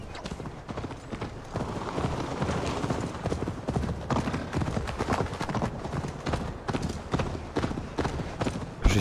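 Horse hooves clip-clop steadily in the video game Assassin's Creed Valhalla, a brisk rhythmic trot of repeated hard knocks close by, continuing throughout.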